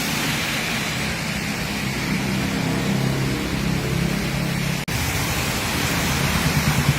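Rain falls steadily in Ekkamai, Bangkok, a dense, even hiss that holds throughout, broken only by one brief dip near the end.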